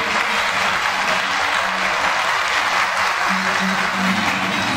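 Warm applause from a studio audience at a televised Brazilian music show honoring a guest, steady dense clapping filling the whole stretch with a faint tone and murmur beneath.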